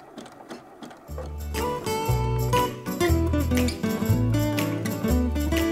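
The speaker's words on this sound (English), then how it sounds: "Now we're gonna take it over to the sewing machine and we're gonna zigzag from this edge and zigzag on this edge." A sewing machine runs a zigzag stitch along the fabric edges of an elastic-waist summer skirt, its motor whirring steadily and loudly, close up, with no voices.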